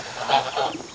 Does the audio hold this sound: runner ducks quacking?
yes